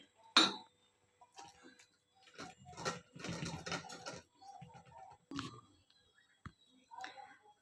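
Cooked wheat being whisked in a pot for kheer, with scattered metallic clinks and scraping strokes against the pot in uneven bursts, fairly quiet and close.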